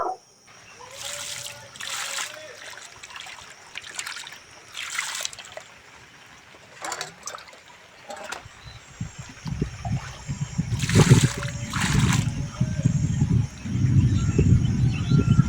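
Freshly cut fish being washed in water, trickling and sloshing splashes that grow busier and louder toward the end, with birds chirping faintly in the background outdoors.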